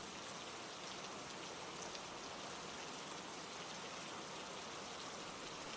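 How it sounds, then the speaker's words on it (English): Rain falls steadily outside an empty old house, a soft, even hiss that holds constant throughout with no individual drops or voices standing out. "Just listen and let the rain do the rest."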